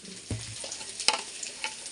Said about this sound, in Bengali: এটা আলুটা ভাজা হয়ে গেছে, তার মধ্যে লঙ্কা দিয়েছি।